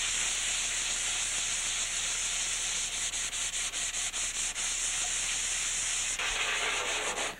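A sanding block scrubs over a surfboard ding repair in steady back-and-forth strokes, a loud raspy hiss with rhythmic pulses in the middle and a brief change in tone near the end.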